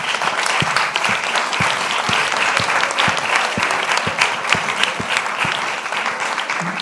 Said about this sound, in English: maybe one last round of applause for these great speakers